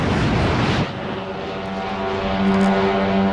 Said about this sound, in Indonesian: pasukan Garda Revolusi meluncurkan belasan drone